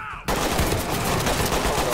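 Loud, sustained gunfire in the tactical SWAT shooter Ready or Not, starting abruptly after a brief quiet moment and continuing as a dense, continuous burst for the rest of the clip.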